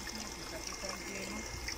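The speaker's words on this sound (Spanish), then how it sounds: "miren cómo va aumentando el caudal del agua a medida que ya se van llenando los tubos de retorno" Water trickles and runs steadily into the return pipes of a pyramid hydroponic irrigation system, a soft continuous flow at moderate distance with no clear talking.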